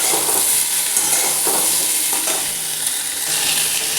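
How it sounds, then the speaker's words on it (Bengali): Potatoes frying with pointed gourd in a pan, a constant hiss of hot oil with repeated stirring scrapes and clinks, heard close and alone. "এবারে আলুটাও একটু পটলের সাথে ভেজে নিই।"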